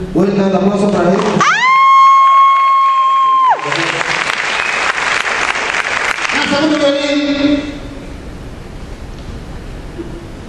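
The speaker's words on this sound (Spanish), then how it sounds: "Vuelta el aplauso para él." Audience applause mixed with crowd noise after a presenter calls for a round of clapping at a live presentation event; loud, dense clapping with a tone-like sustained sound early on, fading to lighter, quieter clapping toward the end.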